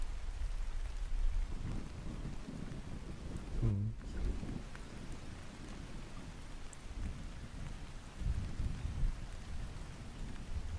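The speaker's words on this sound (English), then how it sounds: "You can hear the rain and the thunder too." Steady rain patters outside, with low rumbles of thunder rolling through the background, faint and distant, and no talking.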